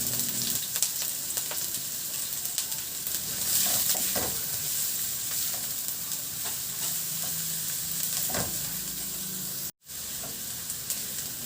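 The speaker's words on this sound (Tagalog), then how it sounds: "Magpainit muna ako ng mantika sa kawali at igisa ko na yung luya." Ginger and garlic sautéing in hot oil in a pan, a steady loud sizzle and hiss with occasional stirring scrapes, close up, with a very brief dropout near the end.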